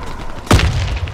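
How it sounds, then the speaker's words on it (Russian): Grenade explosion in a video game, a single short boom with a low thump, sudden and fairly loud against steady background noise, heard alone without speech. "Кидаю гранату!"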